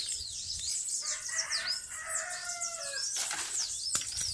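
Birds gathered around a cashew tree on a rural farm, a busy layer of chirps and calls that overlap continuously, with a rooster-like call and rustling in the mix, close and fairly loud.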